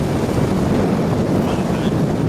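Steady, blustery wind at Adak in Alaska's Aleutian Islands buffets the microphone with a constant low rumble, loud and unbroken throughout.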